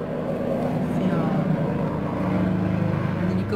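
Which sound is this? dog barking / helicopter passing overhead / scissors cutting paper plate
helicopter passing overhead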